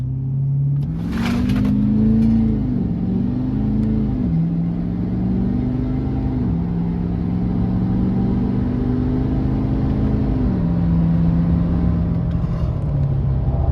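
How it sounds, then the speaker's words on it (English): A Ford 6.7 Powerstroke diesel truck launches hard in four-wheel drive with boost, 0 to 60. The loud, close engine note climbs and drops through several gear shifts. "4-wheel drive boosted launch 0 to 60"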